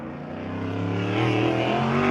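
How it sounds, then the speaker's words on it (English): USAC Silver Crown race car engine on the dirt track at Belleville during hot laps and qualifying, a loud, rising roar as the car accelerates out of turn two and down the back straightaway. "has to feather the throttle getting out of turn number 2 and down the back straightaway"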